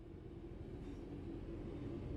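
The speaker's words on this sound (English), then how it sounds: "Apply a small amount of brake to gently bring the train to a stop at the next station." Steady low rumble of a train slowing toward a station stop in a train simulator game, a continuous mechanical drone with a faint brake tone, no talk.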